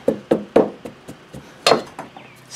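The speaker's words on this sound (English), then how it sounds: "The wood is lightweight and it rams this sand just the right amount." A lightweight wooden rammer packs casting sand for an aluminum model engine crankcase mold, giving a series of close, dull knocking thumps at an uneven pace with no talking.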